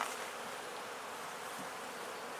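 Honey bees buzz during an inspection of a top bar beehive, a soft, continuous hum of many insects that stays fairly close and faint throughout.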